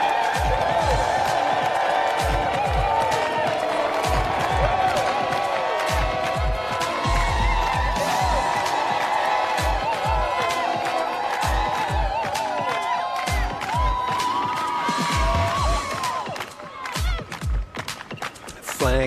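An outdoor crowd at a Coventry street dance performance cheers and whoops over loud, steady music with thumping beats. The music drops away near the end.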